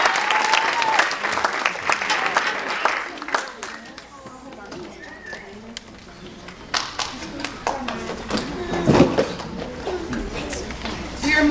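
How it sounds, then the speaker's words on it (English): Applause from the audience at a student string recital for grades 4 to 6, greeting the player of the day; steady clapping rises and falls across the room, with a voice talking over it partway through. "Give a big round of applause"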